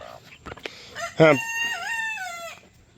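Chickens including a black Australorp give a few short clucks, then one close, clear rooster-style crow that rises and holds for over a second before trailing off.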